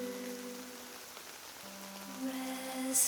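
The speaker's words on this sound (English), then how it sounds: "he could hear the gentle fall of rain" Gentle rain falls steadily and softly as a quiet sound effect, faint and continuous, with low held tones beneath it.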